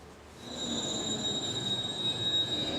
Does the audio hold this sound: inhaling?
no